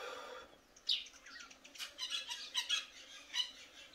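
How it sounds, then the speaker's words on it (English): Birds chirping and squawking outdoors in South Africa, several short calls at mid distance over a quiet background, with a flutter of wings. "You can hear the birds as well, right?"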